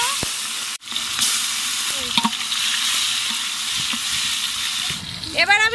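Chopped tomatoes hit hot ghee and oil in an outdoor riverside picnic pan, setting off a loud, steady sizzle and crackle that runs throughout with occasional stirring scrapes.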